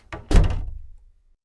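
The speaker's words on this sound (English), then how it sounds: "She pushed through the doors" Doors pushed open into a lab, a quick light knock followed by a heavy thunk and a short rattling swing, close by and then fading into silence.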